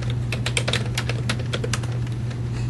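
Rapid keystrokes on a computer keyboard, a close, clicky burst of typing over a steady low hum, with no voices.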